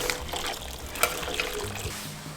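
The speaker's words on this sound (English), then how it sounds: "Place the bones to the stew pot and pour the broth." Pork bone broth poured into a stew pot with the bones for a spicy Korean pork bone stew, a steady liquid splash and trickle with a brief clink of the pot partway through.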